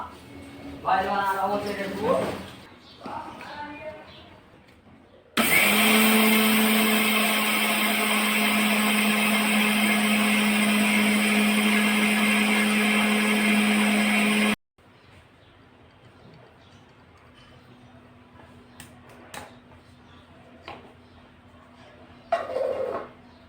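Mixer grinder grinding finger millet (ragi) with a coarse mix into fine flour, a loud continuous whirring motor run of about nine seconds, with a person talking before and after.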